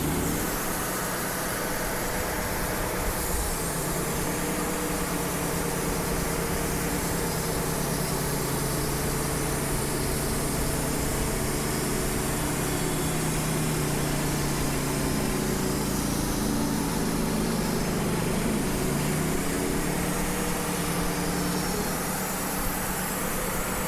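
A sawmill cuts a 2.5-inch slab from a spalted maple log, a loud, steady engine drone with a continuous blade whine running unbroken and close throughout, with no voices.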